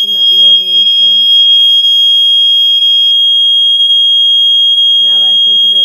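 A Simplex smoke detector in a bedroom alarm system test shrieks with a loud, steady high-pitched electronic tone throughout, while someone talks over it briefly at the start and again near the end.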